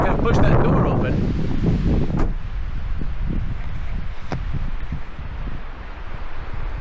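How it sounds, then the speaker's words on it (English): Strong wind gusts buffet the microphone on an exposed side of the Southern Oregon coast, a loud steady roar that is heaviest at the start and then settles into a constant rushing blow. "Well, this is the windy side."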